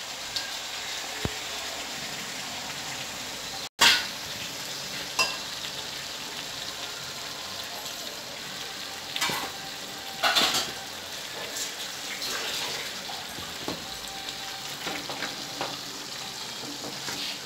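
Chicken with onions and ginger-garlic paste for a ground chicken gravy sizzles steadily in a pan, with occasional spoon scrapes and knocks against the pan over a continuous close frying hiss.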